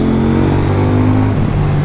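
A KTM 790 Duke motorcycle engine with its standard exhaust revs loudly and steadily, its pitch dipping then climbing near the end.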